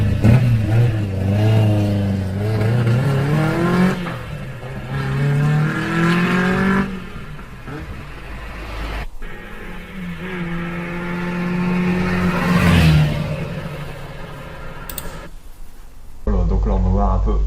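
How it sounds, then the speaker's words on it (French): An old Renault R8 Gordini engine revs up repeatedly, climbing in pitch through several loud accelerations, easing off between pulls, with occasional talk mixed in. "Une petite accélération de la R8 Gordini pour voir un peu la puissance de ce véhicule."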